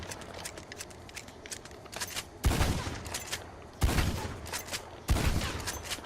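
A pump-action shotgun in the Red Dead Online game fires three booming shots a little over a second apart, each followed by a decaying tail, between quieter mechanical clicks and rustles and with no talking.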